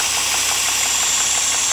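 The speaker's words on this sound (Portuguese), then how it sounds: "O zunido aqui no motor." A running Peugeot/Citroën THP car engine with an air leak, heard up close, gives off a steady high-pitched whine over a low, even idle hum.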